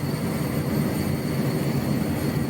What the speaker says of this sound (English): we're kind of flying rather high for a helicopter